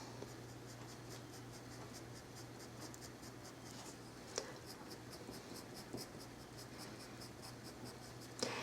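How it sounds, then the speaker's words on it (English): Colored pencil strokes scratching steadily across paper while drawing birds' feathers and fur, a soft, close, continuous scraping with faint repeated stroke rhythms and no voices. "then you can switch to a longer pencil stroke"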